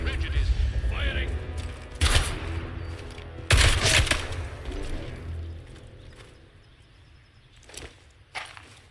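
Soldiers fire guns in the video game Atomfall: two loud bursts of gunfire stand out over a rumbling game background, with a voice speaking and softer clatter between shots.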